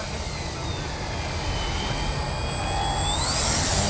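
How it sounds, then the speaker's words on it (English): An Addiction XL radio-controlled model airplane climbs with a loud, sustained engine whine that rises in pitch as it goes up. "This plane climbing like this is pretty incredible"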